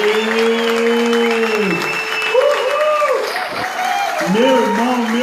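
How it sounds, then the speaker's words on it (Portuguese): An audience at an Umbanda lecture event applauds loudly and steadily, the clapping running under sung or drawn-out voices throughout. "Vamos lá, aquelas palmas fortes mesmo, gente"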